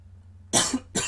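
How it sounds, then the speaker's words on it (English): Two sharp, harsh coughs close to the microphone, the second shortly after the first, following near silence. "Oh boy, excuse me, the cough."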